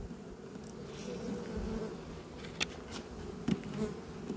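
Bees buzz inside a beehive that mice have attacked, a steady, soft, close drone with a few faint clicks and knocks over it.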